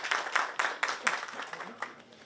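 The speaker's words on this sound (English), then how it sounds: "so let's have a round of applause." A small, sparse round of clapping follows the Bharat Pavilion inauguration at the Cannes Film Festival, with distinct individual claps that are fairly faint and uneven and fade after a couple of seconds.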